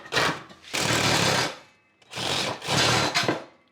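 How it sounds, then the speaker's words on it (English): A power saw cutting all the way through a metal shaft at a workbench, with two long harsh grinding passes separated by a brief gap, loud and close with no talking. "As long as I hear that metal, I know I'm cutting all the way through."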